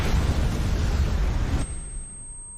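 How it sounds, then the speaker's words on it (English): Dense, roaring explosive rumble with crackling bursts from the video game Star Ocean cuts off abruptly, leaving a faint high electronic tone. "Pretty explosions."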